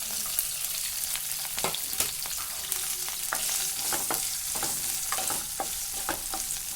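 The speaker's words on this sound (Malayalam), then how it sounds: "അതിലേക്ക് നമുക്ക് എടുത്തു വച്ചിരിക്കുന്ന ഇഞ്ചി, വെളുത്തുള്ളി, പച്ചമുളക്, സവാള ഇട്ട് നന്നായിട്ട് വഴറ്റാം." Ginger, garlic, green chilli and onion sauté in a hot pan for paneer and green pea masala, making a loud, steady sizzle broken by repeated scraping stirs close by.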